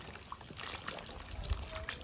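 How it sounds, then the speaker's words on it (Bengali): Mushrooms are rinsed and squeezed by hand in a bowl of water, giving soft, intermittent splashes and trickles at low volume. "খুব ভালো করে একটু ধুয়ে নেবো চটকি চটকি"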